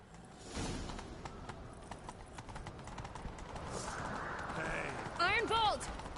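Hoofbeats of a horse galloping through the open world of The Witcher 3, a steady drumming under shouted voices and game music, ending with a rising musical flourish.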